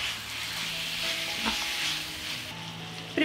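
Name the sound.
meat frying with paprika and tomato paste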